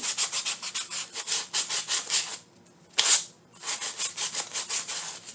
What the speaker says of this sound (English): You take some sandpaper and you sand it down.